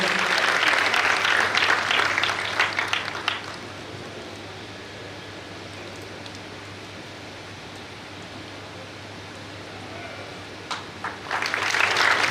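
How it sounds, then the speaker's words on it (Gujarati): A crowd at a community honours ceremony gives loud, dense applause for a guest, which fades into a quiet room hum before another burst of clapping rises at the end. "મિત્રો સ્વાગત સન્માન થઈ રહ્યું છે, જોરદાર તાળીઓથી આપણે વધાવીએ."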